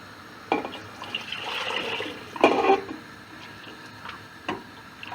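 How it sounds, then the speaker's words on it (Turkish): Boiled water poured into a cooking pot of sautéed onion for a Konya-style okra dish, a close splashing gush with bubbling liquid and a few light clinks, no voices. "Ve şimdi suyunu ilave edeceğim. Ve kaynamış suyum var."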